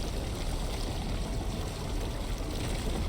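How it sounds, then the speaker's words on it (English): Rushing water pours in the video game Snowbreak: Containment Zone, a dense, steady roar of gushing flow that fills the space evenly from start to end with no voices. "The sound of rushing water grew from a massive gap in the center."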